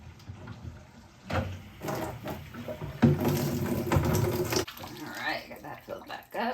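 A washed hank of handspun 4-ply yarn being rinsed in water, with running and splashing water that swells loudly in the middle, while a person speaks intermittently over it.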